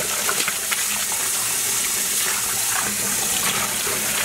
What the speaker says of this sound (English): Let's add some more water.